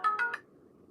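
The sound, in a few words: phone ringtone from spam call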